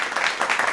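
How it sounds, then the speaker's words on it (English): Applause sound effect added during iMovie editing: a short, continuous patch of crowd clapping, fairly loud and steady. "Kasi ang ilalagay ko dito yung applause."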